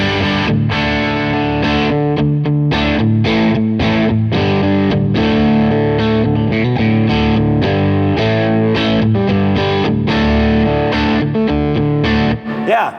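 Electric guitar through a Bad Cat Black Cat 30 Mark Sampson Edition amp, playing a steady, full rhythm part with slightly overdriven chords, loud and continuous with no talking.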